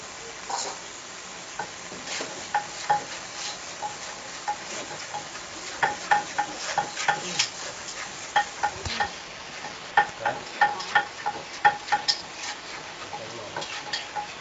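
Chicken giblets are stir-fried in a pan with a soft sizzle under a run of rhythmic scraping and tapping strokes, sparse at first and growing quicker and more regular, with faint voices in the background.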